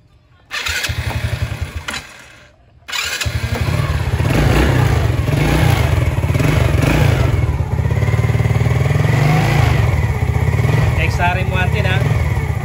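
A Rusi Wavestyle motorcycle, its Bendix starter drive just repaired, starts after a brief failed crank and settles into a loud, close, steady idle, with someone talking over the engine.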